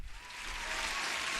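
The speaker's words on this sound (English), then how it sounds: "a huge applause for the new sub" Steady applause for a new subscriber during a live New York session futures trading stream, a brief, fairly faint wash of clapping that holds evenly throughout with no voices.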